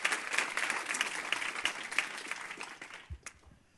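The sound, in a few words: audience applause for the organizer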